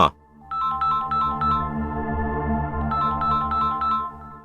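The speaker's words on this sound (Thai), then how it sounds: "ขณะที่ทุกคนคุยกันอยู่นั้น เสียงโทรศัพท์ของผู้ใหญ่ต้นก็ดังขึ้นมา" A mobile phone rings in a 3D animated cartoon, a loud electronic ringtone of rapid repeated beeping bursts over a sustained melodic tone, heard alone.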